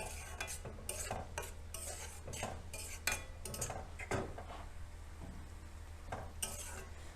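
A spoon scraping and clinking against a pan while spice paste is stirred with yogurt for masala paneer, irregular close strokes with a faint sizzle underneath and no talking.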